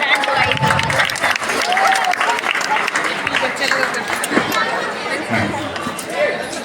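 A hall full of pupils and guests claps at a school annual prize-giving ceremony, the sustained clapping blending with murmured crowd talk and a few louder voices throughout.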